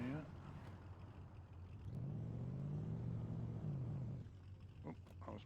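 In the DayZ video game, a Ford Raptor's engine drones steadily while driving, swelling into a louder rev in the middle before settling back, with a person talking over it.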